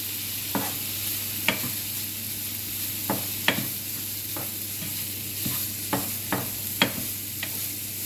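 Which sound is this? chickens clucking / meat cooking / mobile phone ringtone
meat cooking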